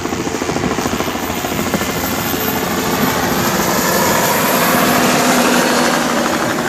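Police helicopter flying overhead, its steady rotor thump and engine whine holding loud and constant throughout with no talk.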